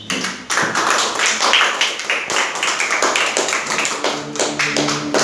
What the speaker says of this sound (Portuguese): aplauda bem forte a Jesus